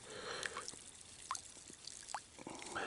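Sand and a sea shell rinsed in shallow water at the shoreline at sunset, giving soft, scattered drips and small trickling splashes over a steady wash of background surf.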